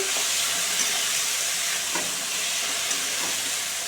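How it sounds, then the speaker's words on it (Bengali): Ground spice paste frying in a hot pan, a dense continuous sizzle with faint scraping stirs, close and steady with no talking. "সেই পেস্টটাই আমি দিয়ে দেবো ভালো করে নেড়ে নিচ্ছি"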